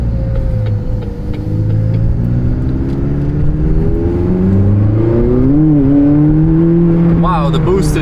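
A 2018 McLaren 570S Spider accelerates hard with turbo boost, its engine note climbing steadily through rising harmonics, loud and close from inside the car, with a whine as the revs peak near the end.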